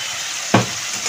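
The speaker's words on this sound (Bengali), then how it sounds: "2 কাঁচা লঙ্কা চিড়ে দিয়ে দিচ্ছি।" Slit green chillies and new potatoes fry in spiced oil for a fish curry, a steady close sizzle with one brief louder burst as they are stirred in the pan.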